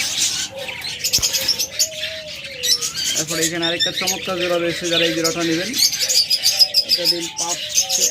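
Small caged pet birds chirp and squawk in busy, overlapping harmonic calls under someone speaking steadily, with dense high twittering in the background.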